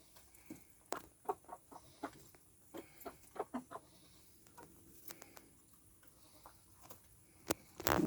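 Chickens and a rooster cluck and murmur in short, irregular calls while feeding on black soldier fly larvae, fairly faint and scattered, with a louder thump near the end.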